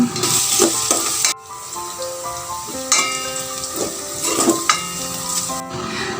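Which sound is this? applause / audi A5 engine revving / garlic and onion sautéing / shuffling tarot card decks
garlic and onion sautéing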